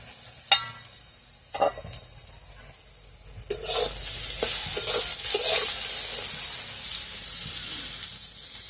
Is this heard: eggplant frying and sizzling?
yes